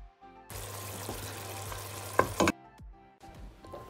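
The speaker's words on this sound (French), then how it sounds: "Dans une casserole, versez votre huile de friture, puis rajoutez votre tomate en boîte de conserve et laissez mijoter" Canned tomato in hot frying oil in a saucepan sizzles loudly and steadily for about two seconds, then a sharp splatter before it quiets to a faint background hiss.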